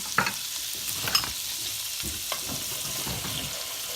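Three tablespoons of butter melting in a pan, giving a soft, steady sizzle with light crackles and a few scraping stirs, no voices.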